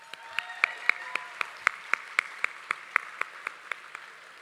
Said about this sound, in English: Let's go ahead and give her another round of applause.